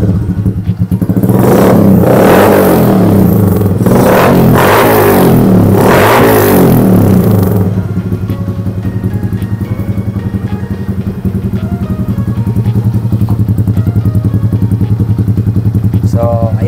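Yamaha YTX 125 scrambler engine revving through a bullet exhaust pipe, loud close-up bursts of throttle in the first several seconds, then settling into a steady rumbling idle.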